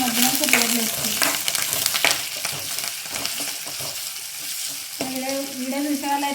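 Onions and tomatoes fry and sizzle in a pan for potato curry, with a steady close sizzle, repeated spoon stirring and scraping, and a few clinks against the pan.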